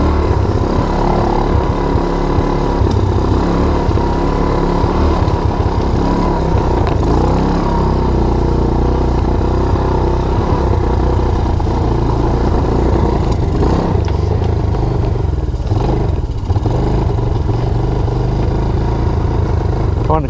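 A Baja Wilderness 90 minibike with a newly fitted 3-speed semi-automatic engine runs close by at a steady loud idle, a rough mid-pitched clattering drone that continues throughout.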